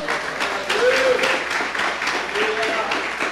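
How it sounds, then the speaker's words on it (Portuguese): A church congregation applauding in a dense, steady patter of clapping, with a voice rising briefly above it. "Uma salva de palmas ao Senhor"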